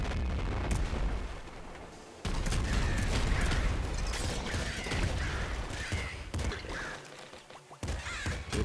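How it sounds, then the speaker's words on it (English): Rapid explosive weapon shots from the roguelike game Nuclear Throne fire almost continuously in loud, overlapping bursts, with a brief gap midway and a few sharp cracks near the end. "Hit scan shots. Faster explosive shots"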